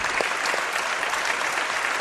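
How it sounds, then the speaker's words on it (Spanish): A studio audience claps for a journalist and writer guest, a full, sustained round of applause with a few sharper individual claps standing out, loud and unbroken, with no talking over it. "Os pido un aplauso para él"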